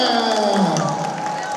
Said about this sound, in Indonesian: tepuk tangan dong untuk Susana